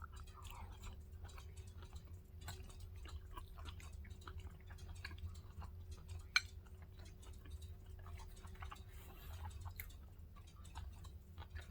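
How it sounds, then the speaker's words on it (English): Someone chewing lobster tails and pasta in lemon cream sauce, quiet close-up wet clicks and smacks in a quick, steady rhythm. "I'm trying to chew my food before I talk"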